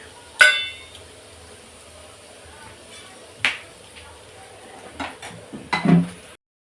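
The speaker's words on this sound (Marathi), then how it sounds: "शेवया चांगल्या परतून घ्यायच्या" Homemade vermicelli stirred and roasted in a pan, with a few sharp clinks of a utensil against the metal spaced across the stretch, close and fairly loud between quiet gaps, and soft scraping near the end.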